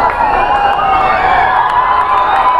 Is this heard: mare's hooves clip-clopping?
no